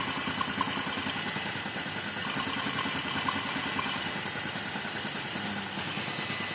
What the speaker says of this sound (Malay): Kalau dia tak pakai filter, ini bunyi.